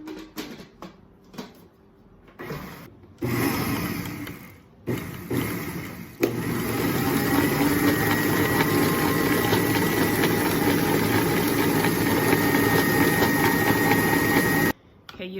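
Electric stand mixer stirring about three cups of flour for sourdough, a steady loud motor whir with a rhythmic mechanical hum, starting in short bursts then running continuously until it cuts off near the end.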